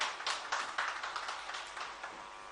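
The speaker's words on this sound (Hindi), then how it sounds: "तालियों के साथ स्वागत" Faint, scattered applause greets an award presentation on stage at a media conclave in Sarangarh-Bilaigarh, Chhattisgarh, with a handful of distinct claps in a loose rhythm that stay soft throughout.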